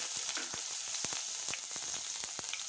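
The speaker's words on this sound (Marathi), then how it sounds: "मी एका पॅनमध्ये थोडंसं तेल टाकलेलं आहे आता आपण इथे अर्धा चम्मच जिरा टाकूया आणि एक कांदा" Cumin seeds and onion frying in a little oil in a pan for paneer bhurji, a continuous bright sizzle with occasional soft taps and crackles, steady and close, no voices.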